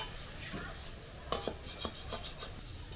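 Boondi, small gram-flour droplets, frying in hot oil and stirred with a utensil, giving a soft steady bubbling hiss with a few light scrapes and clinks against the pan, close and fairly quiet, no talking.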